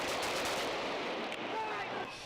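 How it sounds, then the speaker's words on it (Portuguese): Rifle shots fired into the air crack out in a rapid series over a noisy crowd at a street protest, close and loud. "Este agente, a paisana, deu tiros de fuzil para o alto"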